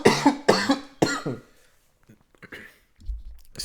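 A man coughs hard three times in quick succession while walking toward Madison Square Garden in New York, each cough loud and close, followed by quieter rustling and movement.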